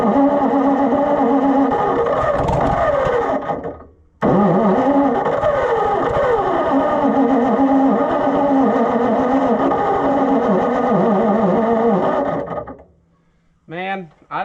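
An Oliver Super 77 tractor from a salvage yard runs loudly up close with a rough, uneven roar. It cuts out briefly, restarts and keeps running for several seconds, then dies and sputters as fuel runs out.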